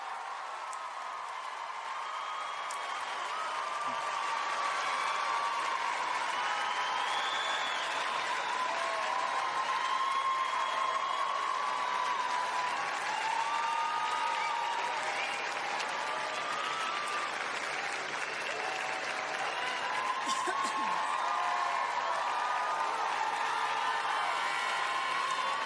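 Sustained applause from a large crowd at a College of Public Health graduation ceremony for the class of 2026, steady dense clapping with scattered whoops and cheers lasting throughout.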